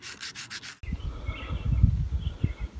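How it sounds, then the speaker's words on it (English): Sandpaper rubs along a wooden flatbow in close, uneven strokes, following a brief stretch of bright, rhythmic chirping. "I just gotta sand the bow"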